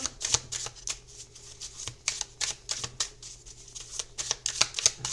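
Tarot cards are shuffled by hand for a card reading. The riffles and flicks come as a quick, fairly soft, continuous run of crisp papery bursts, with no talking.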